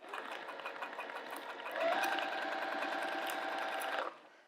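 A sewing machine runs steadily while stitching a zipper pouch at a stitch length just under 3, its motor whirring louder and faster from about the midpoint before stopping near the end, with no talk.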